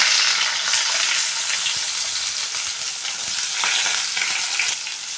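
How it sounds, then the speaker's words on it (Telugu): Onions frying in hot oil with mustard seeds and cumin, a loud, dense, continuous sizzle heard up close, with occasional faint stirring movements and no one talking. "ఆయిల్ కాగింది ఆవాలు వేసుకున్నాం కొన్ని జీలకర్ర కొంచెం ఎరగడ్డలు వేసుకోవాలి"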